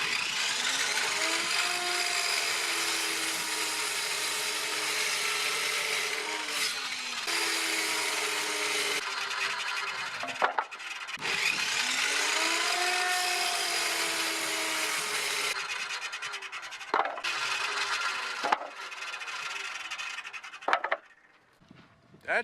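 A power saw cuts wooden boards for a motorcycle platform in repeated passes, a loud whining rip rising and stopping between cuts, with short clunks and pauses as the pieces are handled.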